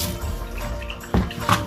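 Bitter gourd being washed in water, with sloshing and splashing that swells into two short, louder bursts near the end, close by.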